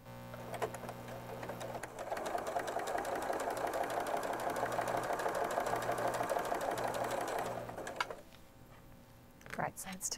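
Sewing machine stitching quilt triangles placed right sides together, a steady whirring run of about six seconds with rapid needle ticking, close and fairly loud, with quiet handling noises before and after.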